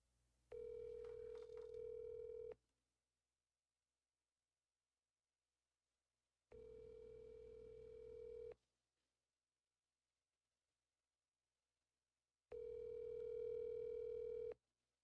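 An outgoing phone call rings while waiting for pickup: three long, steady ringback tones, each about two seconds, separated by roughly four seconds of silence, faint and alone.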